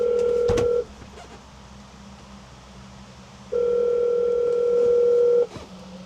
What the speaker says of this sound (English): I don't want to dial later, I want to dial now.